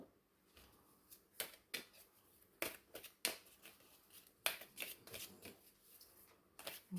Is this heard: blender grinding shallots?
no